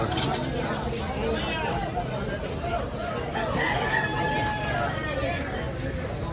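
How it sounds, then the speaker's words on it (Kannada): A rooster crows amid a busy outdoor hubbub of many voices and background noise near a temple in Kashi, its call rising above the crowd. "ಕೋಳಿನೂ ಇದು ಹುಂಜ."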